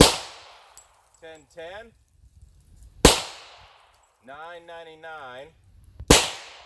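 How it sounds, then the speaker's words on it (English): Three loud, sharp gunshots from a .40 S&W pistol fired through a 5.25-inch XDM barrel outdoors, spaced about three seconds apart, with someone talking briefly between the shots. "We're gonna fire the 40 out of that. Got 3 rounds as well."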